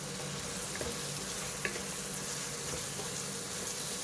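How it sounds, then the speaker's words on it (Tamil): Potato and drumstick pieces sauté in masala in a pan, with a steady close sizzle and the occasional light scrape of stirring throughout. "ஒரு 2 நிமிஷம் நல்லா வதக்கிக்கலாம்."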